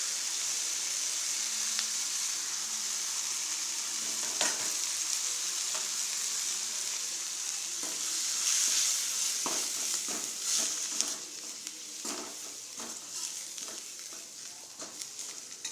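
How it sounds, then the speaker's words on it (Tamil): Onions sizzle in oil with sambar powder stirred in for avarakkai sambar: a loud continuous frying hiss punctuated by repeated scraping stirs and clinks, growing choppier in the later part. "கொஞ்சம் வெங்காயம் வதங்கின உடனே நம்ம எடுத்து வச்சுருக்கிற சாம்பார் தூளை அந்த எண்ணெயிலேயே போட்டு மிக்ஸ் பண்ணிக்கலாம்"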